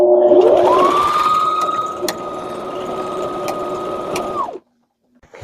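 Sewing machine stitching lace onto the edge of an apron, running in one loud continuous burst for over four seconds, steady motor hum and needle chatter, close up, then stopping abruptly into silence.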